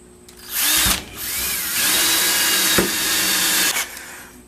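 A power drill bores a hole for a TV antenna mount, whirring up loudly in two long runs with a brief pause between, close by and without any talking.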